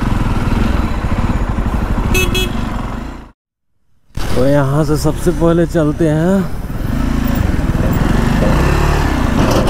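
A motorbike engine drones steadily while riding through a town, running under someone talking, with one brief dropout where the sound cuts to silence before the engine noise returns.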